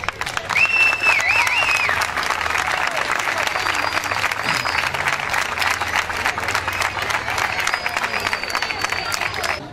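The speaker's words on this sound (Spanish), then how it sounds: "que me acompañen con un fuerte aplauso" Loud, sustained applause from a large crowd welcoming a team at the Copa Bicentenario in Las Heras, dense clapping that stays strong for the whole stretch with some cheering mixed in.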